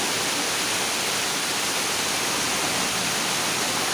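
Floodwater rushes through streets during heavy monsoon rain in Mumbai, a steady, dense broadband roar that holds unbroken and loud throughout with no voices.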